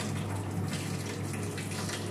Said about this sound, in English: we will open our centrifugal pump